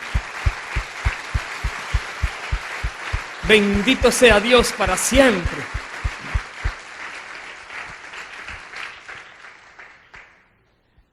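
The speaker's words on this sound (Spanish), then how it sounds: "Dale un fuerte aplauso al Señor." A church congregation claps along with a steady, evenly spaced deep thump, probably a drum, under broad applause; someone speaks briefly in the middle, then the clapping thins and fades out.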